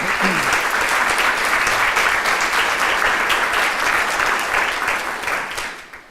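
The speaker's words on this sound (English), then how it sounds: "Could you give them a round of applause, please?" A conference audience applauds a steering committee as members stand to be recognized, dense, loud clapping sustained throughout before tapering off at the very end.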